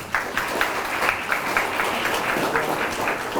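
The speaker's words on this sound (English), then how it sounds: "Let's give her a round of applause." A JROTC military ball audience claps steadily throughout, a dense, even patter of many hands filling the room without a break.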